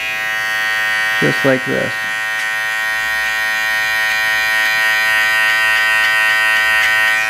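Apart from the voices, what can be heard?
electric tapering trimmer cutting hair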